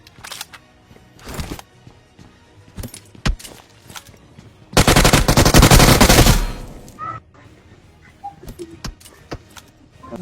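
Gunfire in a battle royale game: scattered single shots and short bursts, then a loud sustained automatic burst lasting about two seconds, followed by sparse quieter shots and clicks.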